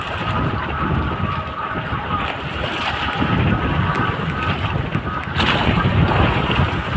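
Heavy ocean waves surge and churn continuously with strong wind buffeting the microphone, a loud, rough roar from start to finish.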